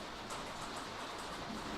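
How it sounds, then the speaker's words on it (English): Rain falls outside in a steady, soft hiss, faint and continuous with no distinct drops or talk. "Sorry for the rain in the background."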